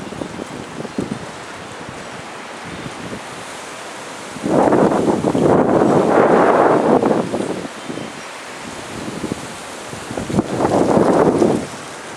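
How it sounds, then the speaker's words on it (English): A strong wind storm roars through old trees in loud, sustained gusts that swell and fade over a constant windy rush, with no voices. "I don't know if you can hear that wind up there"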